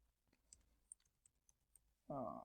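Faint, sparse clicks of a computer keyboard being typed on while code is entered, a handful of light taps in quiet, then a voice starts speaking at the end.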